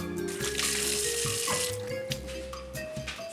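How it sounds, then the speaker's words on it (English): Water runs from a kitchen tap while hands are washed under it, a close, continuous splashing stream with faint clinks and rattles, and no talking. "Wash my hands."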